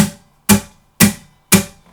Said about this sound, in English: we're going to add in a palm mute to our strumming